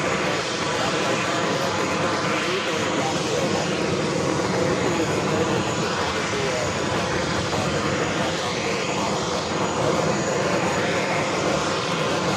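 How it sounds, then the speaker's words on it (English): The jet engines of an Etihad Airbus A350-1000 give a loud continuous roar at an airport, steady throughout with no break. "Etihad at Flight 2 heading to Abu Dhabi at A350-1000, pushing it back."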